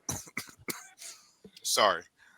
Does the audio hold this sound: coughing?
yes